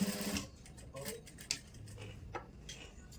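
A sewing machine clicks and ticks quietly while stitching buckram strip along saree pleats, soft and fairly close, with a brief louder knock partway through.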